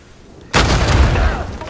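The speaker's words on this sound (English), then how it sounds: "Exploding mummies." An exploding mummy in Uncharted 4 bursts with a sudden loud boom after a quiet moment, followed by a heavy rumbling decay.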